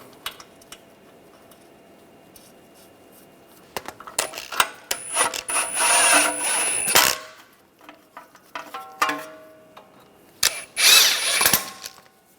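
An impact or power tool runs in bursts while front lower ball joint bolts are started on a 2009-2013 BMW 328i xDrive, giving several loud whirring runs with short pauses and metallic clinks between them, with no talking.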